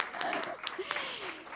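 Audience clapping at a university startup weekend's final presentations, brief scattered applause mixed with voices talking over it.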